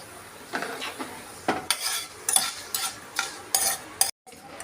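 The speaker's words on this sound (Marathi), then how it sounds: "आता हे थोडंसं हलवून घेऊया आणि गॅस बंद करूया एवढ्या याच्यात होतात त्या मेथ्या तळल्या जातात" Fenugreek seeds fry in a pan for a raw mango takku and are stirred with a metal spoon, giving a soft sizzle broken by repeated sharp scraping strokes, then silence near the end.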